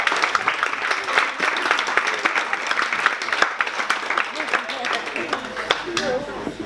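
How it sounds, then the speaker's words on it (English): Wedding guests burst into sustained applause, dense overlapping claps from a room full of people that hold steady for several seconds. "So round of applause for them too for that one"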